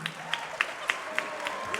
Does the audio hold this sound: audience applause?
yes